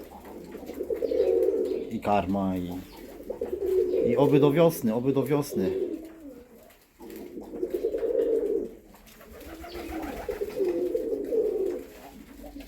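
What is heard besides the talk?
pigeons cooing in a loft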